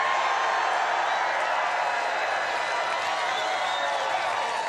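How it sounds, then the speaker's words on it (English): A big political rally crowd in Mosinee, Wisconsin cheers and applauds as a dense, steady wash of clapping and shouting that holds at an even level throughout. "That's why we have such a crowd today. This is a big crowd, you know."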